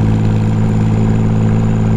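A Triumph Rocket III motorcycle with a sidecar drones in a steady, loud, continuous hum with a low rumbling throb.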